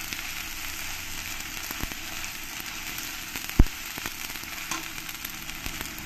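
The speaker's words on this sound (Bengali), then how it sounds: "পেঁয়াজ বাটাটা দিয়ে একটু ভালো করে কষিয়ে নিতে হবে।" Onion paste sautéing in hot oil with black cumin while a prawn malai curry is started, a steady soft sizzle with a brief sharp pop partway through.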